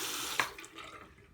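Tap water runs onto a makeup sponge being wetted at a sink, a soft hiss of flowing water with a brief splash as the sponge meets the stream, fairly quiet and without talk.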